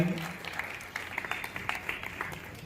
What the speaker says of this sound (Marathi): जोरदार टाळ्यांचा गजरात